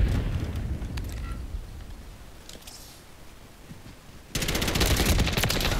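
Automatic gunfire from Modern Warfare III multiplayer rattles in rapid bursts over windy ambience, dropping to a lull before a loud, dense volley erupts near the end.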